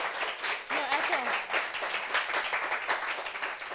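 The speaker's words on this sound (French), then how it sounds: "applaudissons ça encore, applaudissons" An audience at a gathering applauds in a sustained, dense burst of clapping, with some voices mixed into the crowd noise throughout.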